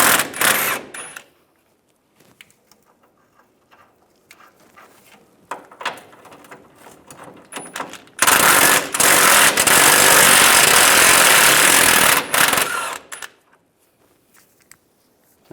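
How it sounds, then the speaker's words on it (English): An impact wrench removes nuts from the rear bumper studs of a 2007-2013 Chevrolet Silverado 1500, with short rattling bursts followed by one long, loud, close run of several seconds, then quiet. "I can take those nuts off."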